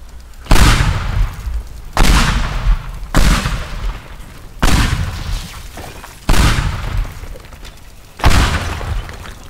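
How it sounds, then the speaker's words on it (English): Pipe bomb explosions in a video game, six loud heavy booms spaced about every one and a half seconds, each a sharp blast fading into a rumbling tail, with no talk over them. "that's how powerful pipe bombs are"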